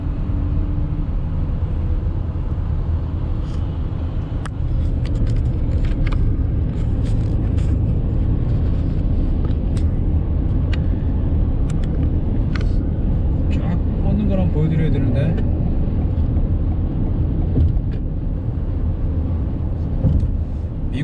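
Steady low road rumble and wind noise inside a 2021 Toyota Sienna hybrid cruising on a highway, a constant broadband drone with no breaks over the whole stretch.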